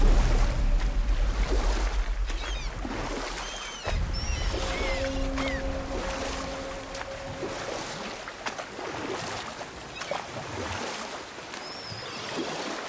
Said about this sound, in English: Keep rowing towards the statues of the oarsmen, then thread past between them.